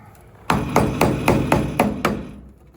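A hammer taps the rusty driver-side quarter panel of a 1988 Toyota 4Runner, seven sharp, close metallic knocks in a steady, evenly spaced rhythm, each ringing briefly before the next.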